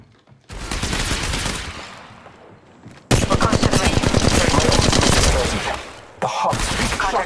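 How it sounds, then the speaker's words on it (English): Rapid automatic gunfire in the mobile battle-royale game Apex Legends Mobile, two sustained loud bursts of close shots with a short pause between them and a brief gap near the end. "The hot streak shots fired at me."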